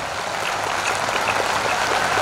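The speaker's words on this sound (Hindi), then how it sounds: "आसमान में देर तक आपकी तालियों की गड़गड़ाहट उस बिटिया का सम्मान करे।" A dense crowd applauds at a Hindi poetry recital, steady loud clapping that holds without a break, with no voices over it.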